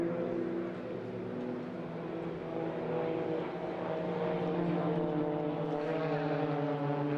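An aerobatic aircraft doing snap rolls at the 2022 Eastbourne airshow drones steadily throughout, a sustained propeller-engine hum whose pitch shifts slightly as it manoeuvres, with no voices.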